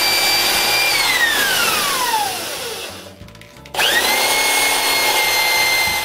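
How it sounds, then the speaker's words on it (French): A power drill bores a 3/4 inch hole through the centre of a wooden snowman blank, a loud, steady whine that sags as the bit bites, stops briefly, then spins back up at full speed. "Ensuite, je perce un trou de 3/4 de pouce au centre."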